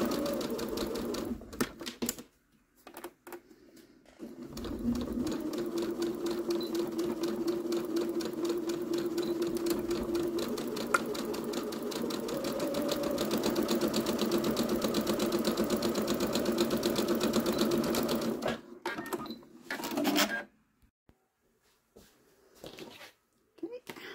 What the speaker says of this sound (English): I'm going to back stitch at the beginning and ending of each piece